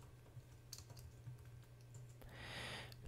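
Computer keyboard typing during spreadsheet data entry: a few light, faint key clicks scattered over a low mains hum, ending in a brief broadband burst of noise.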